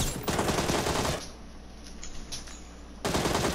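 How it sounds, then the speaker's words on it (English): Bursts of rapid automatic gunfire in PUBG, loud and close at the start, a quieter stretch, then another heavy volley near the end, with no talking. "I'm getting shot from behind."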